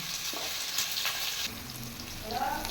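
Onions sizzle in hot oil for a vegetable biryani, a steady close frying hiss with light stirring, no one speaking.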